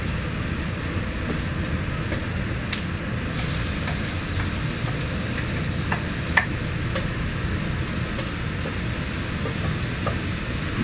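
Beef stir-frying in a pan: a loud, continuous dense sizzle that stays steady throughout, with a few faint clicks and a brief hissy surge, close up and without talk.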